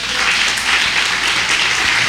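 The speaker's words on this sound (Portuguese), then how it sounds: "Aplauda bem forte ao Senhor." A large church congregation claps loudly for the Lord during a Portuguese-language sermon, producing a thick, continuous roar of applause that stays even and full throughout.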